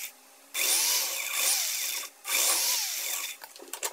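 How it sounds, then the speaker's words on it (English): A power drill boring round holes in a 1915 Universal toaster, Model E947: two sustained whining drill runs separated by a brief pause, followed by a few light clicks and scrapes up close. "all I need to do is drill holes that are round in here for it to fit"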